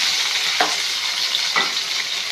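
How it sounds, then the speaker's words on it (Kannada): Onions hiss and sizzle steadily in hot oil with mustard seeds and cumin in a home kitchen pan, with two brief scraping stirs breaking through the continuous frying. "ಸಾಸಿವೆ ಜೀರಿಗೆ ಬಿಸಿ ಆಗಿದೆ. ಮತ್ತು ಈರುಳ್ಳಿ ಸೇರಿಸ್ತಾ ಇದ್ದೀನಿ."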